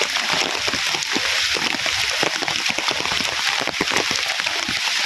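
Dense, heavy rain hammers down in a village, a constant loud wash of noise broken by many close splatters and drips on nearby surfaces.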